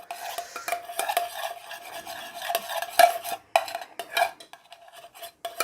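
Butter is spread around a serving bowl for Ethiopian genfo porridge, making continuous rubbing and scraping strokes of a utensil against the dish, with irregular louder scrapes and clicks and no voices.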